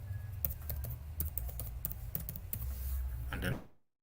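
Keys on a computer keyboard being struck as a password is entered, a quick uneven run of close, crisp taps and clicks that stops abruptly before the end.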